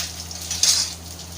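A tadka for dhokla is fried in hot oil: a soft sizzle with light metallic clinks of a spoon against the pan, rising briefly in the middle, close and without talk.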